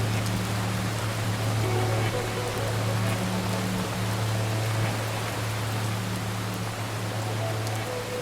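Continuous rain pours in a soft, even hiss over a faint low hum, steady and unvarying across the whole stretch, suited to lulling someone to sleep.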